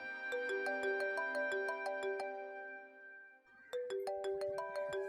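A melodic electronic phone ringtone plays a repeating chiming tune, pausing briefly before starting over, clear and fairly close with no voices.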